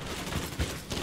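Gunfire in the open-world shooter Ghost Recon Wildlands, with a dense burst of shots and low thumps over a steady noisy game soundscape during a firefight.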